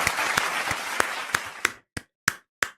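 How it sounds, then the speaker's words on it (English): A few people clap for Matty Scott on a football transfer news show: quick scattered claps that thin out into a handful of separate, sharp final claps. "Big clap for Matty Scott."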